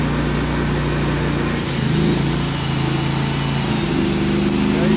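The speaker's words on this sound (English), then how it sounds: "So which means the rings are going down in this brand new motor." A brand new sawmill motor with worn piston rings runs steadily at high speed, a loud, close, buzzing drone with a slight dip partway through and no voices.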